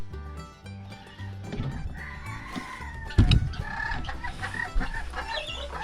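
Chickens cluck and crow inside a hen house on a breeding farm, with several birds calling over a steady low hum of equipment and a louder burst of activity midway through.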